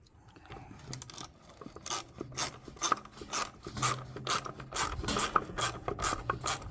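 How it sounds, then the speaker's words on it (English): A ratchet wrench clicks in rapid, rhythmic bursts up close, pausing briefly between strokes as it is worked on a birdhouse. "she's gonna try it with a ratchet."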